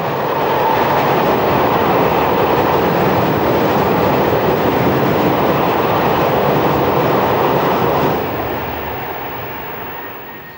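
A train led by number 22231 passes heading north on a four-track main line near Mézières-les-Metz, a loud continuous rumble and rattle of wagons that fades slightly at the end.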